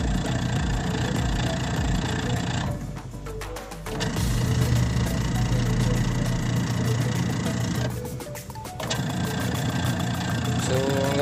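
A washing machine motor that had been humming and hard to start runs with a steady mechanical drone and whine, close and loud, pausing twice briefly before resuming.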